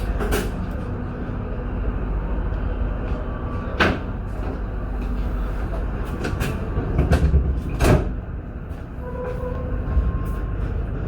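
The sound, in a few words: KA Pandalungan passenger train running, heard from inside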